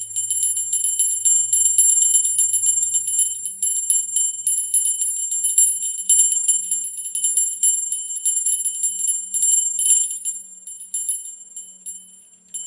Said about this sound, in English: I'm going to go ahead and ring the bell and call in our angels